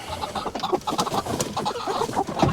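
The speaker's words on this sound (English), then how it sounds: "we got all of our chickens in here" Chickens cluck and murmur inside their coop on a snowy winter morning, several birds calling over one another in a dense, continuous, close chorus with no talk.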